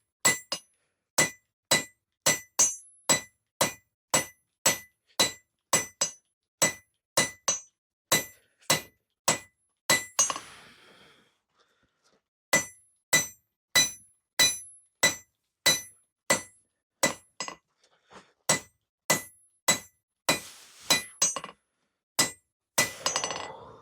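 A hammer strikes hot steel on an anvil in steady, ringing blows while a section of forged tongs is drawn thinner, with a brief pause midway before the rhythmic, bright metallic clanging resumes.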